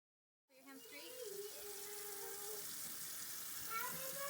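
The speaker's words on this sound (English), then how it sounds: "Go ahead and turn on the water." A household water tap turned on for hand washing: after a brief silence the stream starts with a gush and settles into a steady, hissing flow into the sink, quiet, with children's voices faintly under it.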